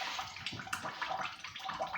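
Whey drains and drips from ricotta cheese curds, a close, uneven trickle and splatter of liquid that continues alone.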